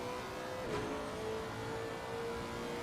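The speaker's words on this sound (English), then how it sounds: "I also love the sound of his car in the downshift." An RWB race car in Assetto Corsa Competizione downshifts at Zandvoort. The steady engine note drops sharply in pitch once and then settles into a lower drone, heard faint and distant.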